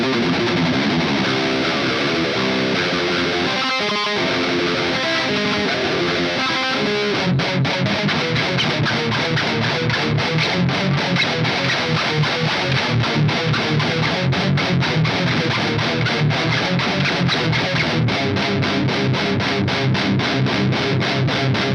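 Electric guitar played through the gain channel of an Engl amp, heavily distorted and loud, with dense sustained chords and a brief choppy muted passage early on, no voices.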